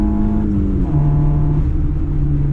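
A Mini's engine pulls steadily on a race track, its pitch climbing and then dropping as it shifts through long gears, a continuous loud drone up close.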